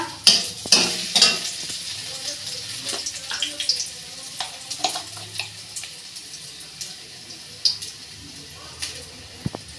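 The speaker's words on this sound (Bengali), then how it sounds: "আলুটা ততক্ষণ ভাজা হোক" Potatoes fry in a pan, a soft sizzle broken by sharp scraping stirs and clinks in an uneven rhythm, with a bright crackle near the start.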